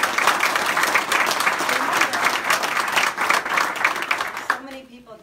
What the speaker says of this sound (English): I just want to give a round of applause.